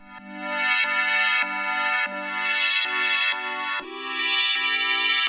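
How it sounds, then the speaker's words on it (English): Arturia MicroFreak Motion Pad preset: bright, glassy sustained synth chords, changing every second or so, with shimmering high end that swells and moves, played alone. "It's a pad sound. It sounds like this."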